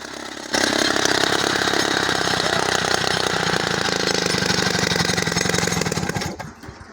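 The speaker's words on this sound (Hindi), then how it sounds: "अब आप देख सकते हैं इस पत्थर में ड्रिल हो रही है। इस ड्रिलिंग मशीन के आगे 2 फीट का बर्मा लगा हुआ है।" A drilling machine fitted with a 2-foot bit bores into stone at a Murree building site, a loud, steady mechanical roar with rapid pulsing that starts abruptly and runs almost seven seconds before trailing off.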